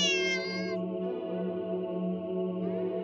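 A cat in a video game gives a single drawn-out meow, loud and close, its pitch sliding as the cry stretches on for about three seconds with no talk over it.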